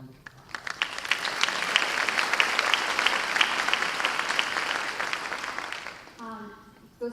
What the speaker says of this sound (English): Let's give the foundation a round of applause.